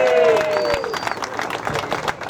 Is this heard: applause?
yes